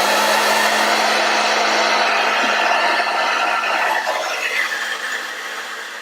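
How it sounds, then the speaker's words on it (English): A hair dryer blows with a steady, loud whooshing hum up close, running continuously and fading slightly toward the end. "I'm going to turn on my hair dryer."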